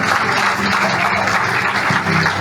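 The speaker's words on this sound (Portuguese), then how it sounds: "aplauda Ele mais uma vez" A church congregation applauds during a family worship service, a thick, sustained roar of clapping from many people, loud and even throughout with no pauses.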